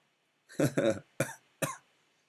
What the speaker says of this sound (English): Oh, and I have a cough.